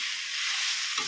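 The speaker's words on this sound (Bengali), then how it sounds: "এবার মাছের মাথাটা দিয়ে দেবো" A fried fish head is stirred into oily spice masala for a gourd curry, giving a bright, continuous close sizzle with a short scraping stir near the end.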